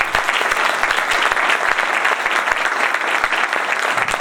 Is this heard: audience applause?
yes